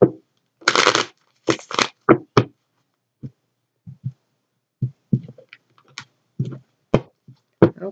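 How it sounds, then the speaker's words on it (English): Tarot cards being shuffled in short bursts of riffling, followed by scattered soft taps and clicks as the deck is handled, close and otherwise quiet. "One more shuffle."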